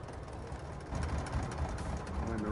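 A tractor engine in Farming Simulator 22 hums and idles steadily with a low rumble, growing slightly louder partway through, with faint bird-like game ambience.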